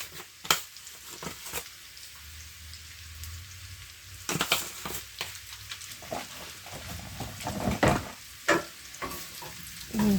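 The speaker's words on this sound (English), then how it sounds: "we're just gonna basically let them fry until they get golden" Gnocchi fry in butter in a pan inside a travel trailer, a soft continuous crackle broken by sharp spatula scrapes and stirring clatters, with no talking.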